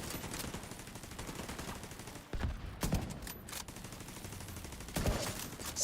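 Rapid, continuous video-game gunfire from a sniper-versus-sniper fight in a hardcore-mode shooter, a dense rattling fusillade with a few heavier sharp cracks standing out, loud and close throughout.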